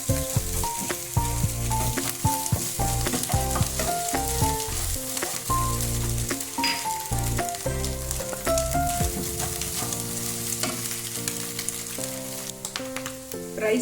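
Eggs sizzle loudly in a pan while being mixed for egg fried rice, a continuous close crackle with stirring clicks, playing under prominent background music throughout, with no talking.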